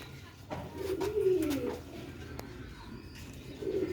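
Pigeons of an old pedigree breed coo in soft, low rolling phrases, one near bout swelling around the middle and another starting at the end, with no talk over them.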